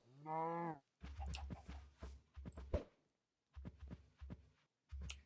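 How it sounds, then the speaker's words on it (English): Cows in a video game give one low, drawn-out moo, then a string of soft thudding steps and clicks with short gaps between them. "Oh, and there's some more cows."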